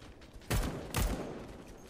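SMG gunfire in a video game: two sharp, loud bursts about half a second apart, close and punchy, each fading quickly into a low rumble.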